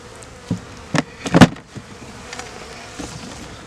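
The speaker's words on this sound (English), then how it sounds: "lots of bees still inside" Honeybees buzzing close by during a honey harvest, in short bursts, a few loud passes near the start, then quieter intermittent humming.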